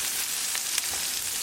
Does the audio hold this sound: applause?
no